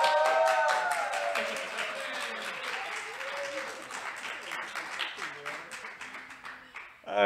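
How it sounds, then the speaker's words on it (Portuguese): A studio audience claps to welcome a guest onto a talk show, with loud applause that slowly fades over several seconds while voices talk over it. "Eu acho que você ganhou mais palma"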